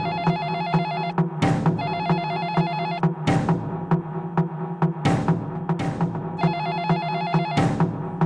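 A telephone rings in repeated bursts, each a loud trilling electronic ring followed by a short pause, cycling steadily and close by with sharp clicks between rings.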